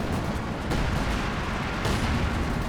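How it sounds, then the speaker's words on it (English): Coordinated artillery barrage from a pyrotechnic squad in the Company of Heroes strategy game, a dense continuous roar of overlapping explosions and rumbling blasts, loud and sustained throughout. "Looks like a coordinated barrage right there from the Pyrotechnic Squad"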